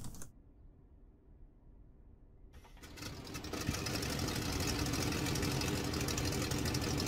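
A WWI-era aircraft engine in the flight sim Rise of Flight cranks over after a short quiet pause, then catches around the three-second mark and settles into a loud, steady drone that builds slightly and holds.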